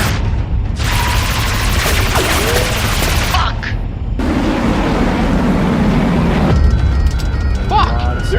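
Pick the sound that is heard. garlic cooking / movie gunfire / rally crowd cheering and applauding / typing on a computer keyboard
movie gunfire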